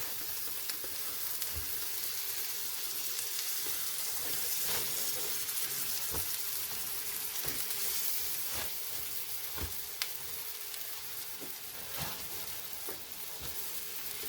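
Chicken patties cook in melted butter on an electric griddle, giving a steady, close sizzle and crackle with occasional sharper pops and scrapes, with no talking over it.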